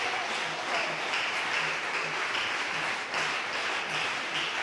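Members of a church congregation applaud during a sermon, a soft, even spread of clapping from many hands, fairly distant and low in level, with a faint rhythmic low pulse running beneath it.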